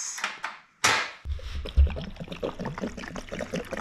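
Water pours and splashes over cooked yabbies after straining, a loud rush followed by steady trickling and dribbling close by, with some clattering.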